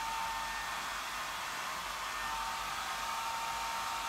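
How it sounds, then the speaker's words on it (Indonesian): A hair dryer runs steadily and loudly with an unbroken airy roar, alone and close, with no voices. "mendingan dengerin aja suara hair dryer si Shani."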